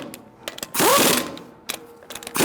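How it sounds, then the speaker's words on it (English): Ratchet wrench with a 19mm socket tightening lug nuts on a Ford Taurus wheel, giving a few close, brief mechanical clicking bursts and one louder, longer ratcheting run. "you're gonna tighten them in a star-like pattern using a 19mm socket"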